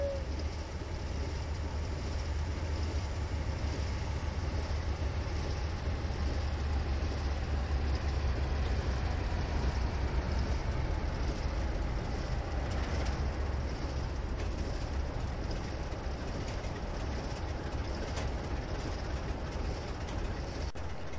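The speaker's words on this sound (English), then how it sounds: "a diesel horn could be heard in the distance, and a few seconds later, a Class 47 diesel emerged from the tunnel" A Class 47 diesel locomotive rolls continuously along the track into a platform, giving a steady low rumble and rail noise. No distinct horn blast stands out.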